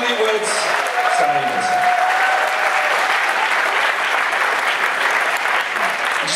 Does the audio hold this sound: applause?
yes